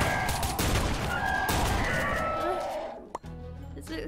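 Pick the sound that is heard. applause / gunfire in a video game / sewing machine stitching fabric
gunfire in a video game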